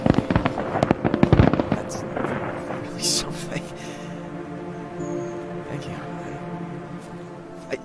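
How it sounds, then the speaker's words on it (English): Fireworks in the Stray Souls video game: a cluster of sharp bursts and crackles in the first two seconds, then a fainter pop, fading into a lingering rumble and soft game ambience. "Oh, look, pretty fireworks."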